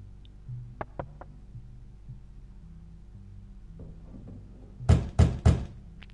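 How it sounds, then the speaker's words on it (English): Knocking on a door in the video game The Wolf Among Us: three loud close thuds in quick succession near the end, after a few faint ticks over a low game hum. "Let's knock first. You know, let's be gentle."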